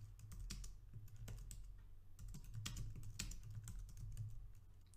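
Rapid keystrokes on a computer keyboard enter a reload command on an Ubuntu Linux machine: a dense, quiet stream of clicks and taps running through the whole stretch.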